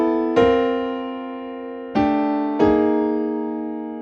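Keyboard playing a short passing-chord melody: three sustained, ringing chords struck one after another, each decaying slowly in a quiet room, with no talking.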